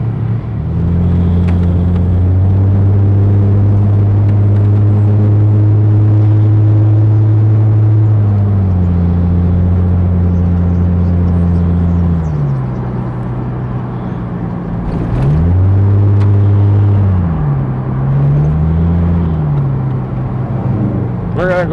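A 2001 Chrysler Prowler cruising on the I-5 freeway, a loud, steady low engine drone with road rumble throughout, the pitch shifting as it changes gear and easing off and back on near the end.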